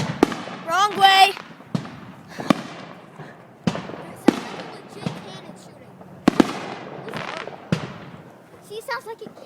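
Independence Day fireworks in America, repeated loud cracking bursts spaced a second or two apart, some with whistling fizz, while voices chatter in between.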